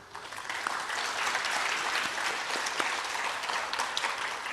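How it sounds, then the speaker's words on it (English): Audience applause at a press briefing for a care village grand opening, a sustained burst of many hands clapping at moderate distance, holding steady before tapering off; no voices over it. "I wish that you give them a really, really big round of applause to thank them as well"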